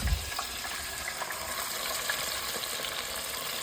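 Freshly caught bass deep frying in oil, a steady close bubbling sizzle and hiss that holds evenly throughout, with a brief low bump at the start and no voices.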